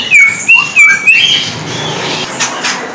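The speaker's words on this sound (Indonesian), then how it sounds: "Kalau yang sebelah sini dari jenis burung pokse," A pokse rembu bird, kept at a bird kiosk, gives a series of clear, high whistled chirps in quick bursts close by, then fainter calls and background chatter fill the rest.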